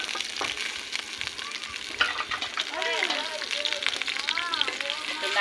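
Onions sizzle steadily in hot oil, stirred now and then, with a shrimp and taro-leaf dish under way; a broadband frying hiss fills the clip while sliding chirps and clatter sit on top.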